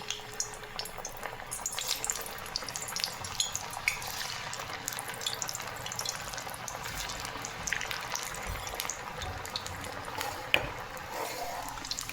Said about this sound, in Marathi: चला, आता आपण एक एक तळून घेऊया.